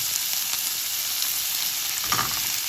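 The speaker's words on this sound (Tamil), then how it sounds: "வெங்காயத்தை போட்டு வதக்குவோம்." Onions sautéing in a hot pan with cumin for a carrot curry, a steady close sizzle with soft stirring scrapes and no talk.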